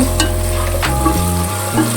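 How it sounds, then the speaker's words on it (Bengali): Taro pieces frying in oil in a pan are stirred, a steady close sizzle with scraping strokes of the stirring spoon running throughout, loud and alone. "এবার নেড়ে নেব।"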